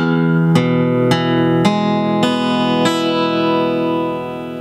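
A guitar chord played one string at a time, six clear plucks at an even pace, each note ringing on and blending into a sustained chord that fades at the end.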